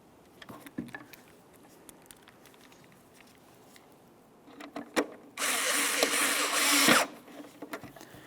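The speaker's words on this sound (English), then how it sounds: "Now we can start in all 4 of our mounting screws." A power driver whirs steadily for about a second and a half, running tail light mounting screws into a 2003-2007 Honda Accord, with scattered clicks and handling knocks before and after.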